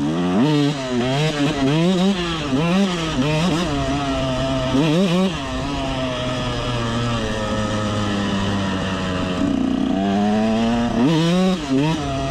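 A KTM 125 SX dirt bike engine loud and close, revving up and down repeatedly with a buzzing two-stroke rasp as it rides along.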